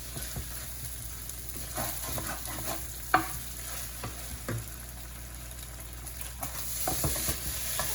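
Rice stir-fried in a pan over high heat, a steady close sizzle with scattered scraping and stirring clatter throughout, no voices.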